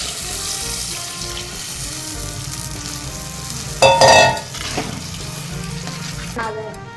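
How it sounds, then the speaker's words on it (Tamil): Tamarind and chili powder mixture poured into a hot frying pan with tomatoes for fish curry, a loud burst of sizzling and splashing over steady frying, then settling back to a continuous crackle. "நம்ம புளியும் மிளகாத்தூள்லாம் கரைச்சி வச்சுருக்கோம்ல, அந்த கரைசல் ஊற்றிக்கலாம்"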